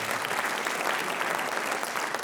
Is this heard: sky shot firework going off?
no